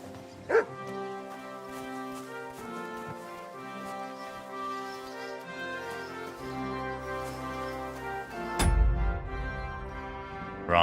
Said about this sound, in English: Can I pet the dog?